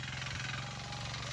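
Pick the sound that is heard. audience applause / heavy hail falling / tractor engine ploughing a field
tractor engine ploughing a field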